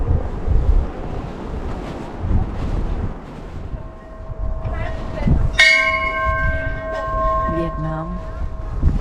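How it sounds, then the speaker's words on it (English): A Bulgarian bell at the Bells Monument in Sofia is struck once midway, its bright metallic tone ringing and slowly decaying over strong wind buffeting the microphone outdoors. "Bulgarian bell."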